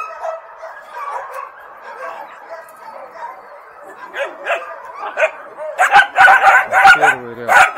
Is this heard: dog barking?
yes